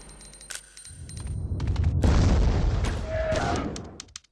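Gunfire from the Resident Evil Code Veronica X video game, with sharp pistol and submachine gun shots followed by a heavy booming blast that swells and fades, then a few scattered pops.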